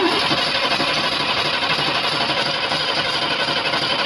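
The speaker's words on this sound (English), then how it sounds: "So I'm going to go ahead and crank it over." A first-generation Chevrolet Astro/GMC Safari van engine cranking over, a loud, continuous, dense mechanical churn close by with no pauses or talking.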